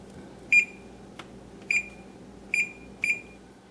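An oven control panel beeps four times, short bright electronic tones spaced irregularly over a few seconds, with a faint click between the first two and no talking.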